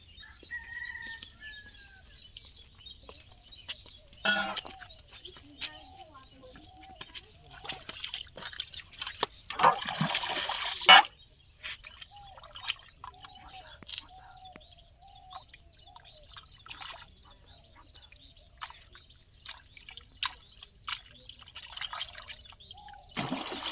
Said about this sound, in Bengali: চলো পুকুর থেকে একটু ধুয়ে পরিষ্কার করে নিয়ে আসি